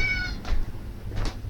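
A cat meows twice, close and clear, the two calls spaced under a second apart over a low background rumble.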